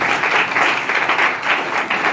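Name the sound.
class applause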